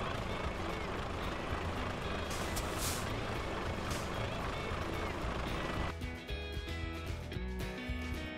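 A heavy truck in Euro Truck Simulator 2 maneuvers to park, its engine drone steady and loud before a hiss of air brakes, then a tonal, beeping backup alarm pattern takes over near the end.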